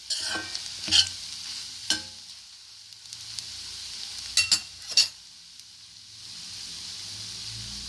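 Andhra-style onion egg curry is stirred in a pan over a soft background sizzle, with a few sharp scrapes and clinks of the spoon against the pan, spaced irregularly.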